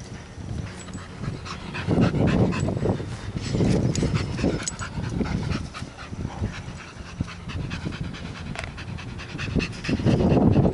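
Heavy, rapid panting from a nearby dog comes in loud surges with brief lulls between, broken by occasional soft whimpers and no voices.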